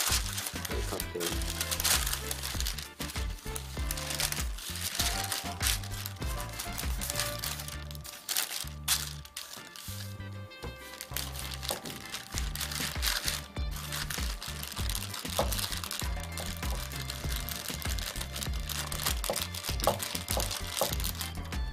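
Baking paper crinkles and rustles steadily beneath plain butter-cookie dough being rolled out with a rolling pin, a continuous close scratchy texture with repeated rolling strokes and no talking.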